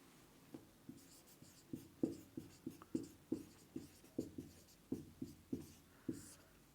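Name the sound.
writing incident light in Hindi on a board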